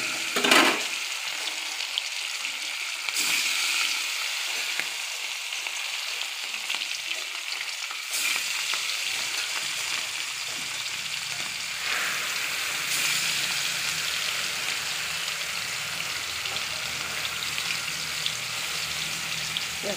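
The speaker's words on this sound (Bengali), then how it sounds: "বন্ধুরা, তেল গরম হয়ে গেছে, আর মাছগুলো এক এক করে ছাড়বো।" Katla fish pieces frying in hot oil make a continuous bright sizzle that swells in bursts as pieces go in, close by and steady for the whole stretch with no talking.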